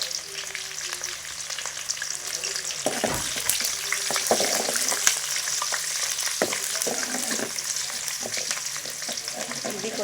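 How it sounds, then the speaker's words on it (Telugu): Onions and curry leaves frying in a pan toward golden brown give a steady crackling sizzle, broken by intermittent stirring clatters and scrapes, with no speech. "ఇది కూడా బాగా మనకి గోల్డ్ కలర్లో వేగిపోవాలండి."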